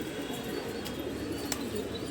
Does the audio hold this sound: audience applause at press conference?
no